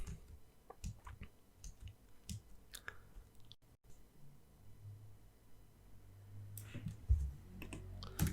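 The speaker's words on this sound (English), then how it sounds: "Middle mouse clicking" Computer mouse clicking during walk-cycle animation work, a string of faint, irregular, close clicks over low background hum.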